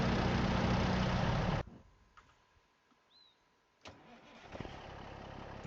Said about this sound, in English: We have to go into the loud truck though